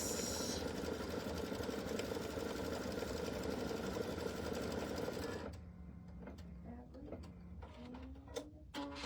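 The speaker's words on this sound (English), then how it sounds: "we're going to go ahead and we're going to stitch the color" A sewing machine stitches dark green fabric onto a quilt block, a steady loud whirring hum for several seconds that stops abruptly, leaving light clicks and handling noises behind.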